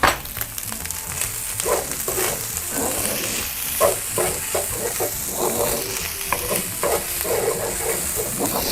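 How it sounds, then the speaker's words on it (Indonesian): Char siu fried rice being stir-fried in a wok gives a loud, steady sizzle with repeated scraping and tossing strokes throughout, and no talking over it. "Nah, sekarang baru kita masukkan char-siu-nya. Oke, kita aduk dulu."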